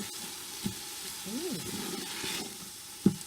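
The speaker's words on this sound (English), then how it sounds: "So that's onion, garlic, and tomato paste. Saute that together." Onion, garlic and tomato paste sauteing in a pressure cooker, a steady close sizzle and hiss with a couple of sharp utensil taps against the pot and a brief stirring swish in the middle.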